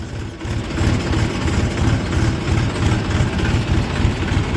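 An Eicher 485 tractor engine idles close by at a sugar mill, a loud, steady low-pitched diesel chug with rapid even pulsing throughout.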